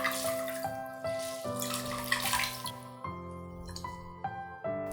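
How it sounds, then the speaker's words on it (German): Water runs and splashes as sauerkraut is rinsed in a kitchen, with faint drips under soft background music. "Wir können das Sauerkraut direkt braten oder einmal kurz im Wasser spülen."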